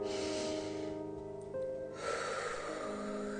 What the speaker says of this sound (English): take a deep breath in here